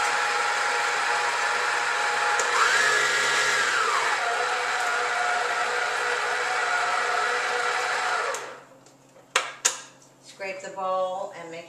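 Semi-sweet chocolate chips being mixed into cheesecake batter for a chocolate coconut almond cheesecake, with a steady loud mixer whir that rises briefly in pitch, then cuts off and leaves a few scraping clatters.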